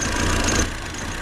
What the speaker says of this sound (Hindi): ये इसकी मिसिंग जारी है, और ये जब तक इंजन अच्छे से हीट नहीं हो जाएगा तब तक ये मिसिंग करेगी